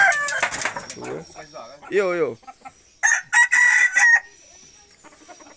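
Peruvian-breed roosters crow loudly and nearby at a poultry farm, with several overlapping crows, clucks and cackles, and brief casual talk among them.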